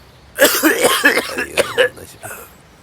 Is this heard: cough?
yes